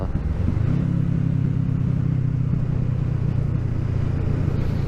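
A Kawasaki ER6n motorcycle engine is ridden and revved from third gear, giving a steady close low drone that rises and holds a throaty hum throughout, with no talking.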